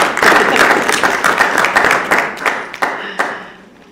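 A small room of people at a regular town council meeting bursts into close, loud clapping that thins out into a few scattered final claps over about four seconds.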